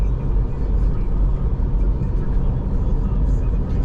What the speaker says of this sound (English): Hey, truck.